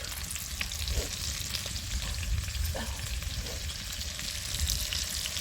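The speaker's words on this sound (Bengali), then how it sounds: "আলুগুলোকে ভালো করে লাল লাল করে ভেজে নেব" Potatoes fry in a pan with a steady, moderately quiet sizzle, broken by a few soft scraping stirs.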